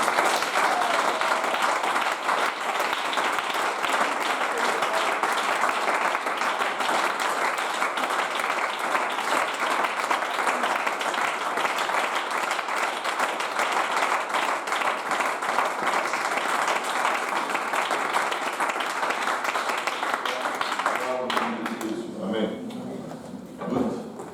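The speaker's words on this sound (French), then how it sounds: "Est-ce qu'on peut acclamer le Seigneur?" A church congregation applauds to acclaim the Lord in a French-language service: steady, dense clapping sustained for over twenty seconds that thins out at the end, with voices mixed in.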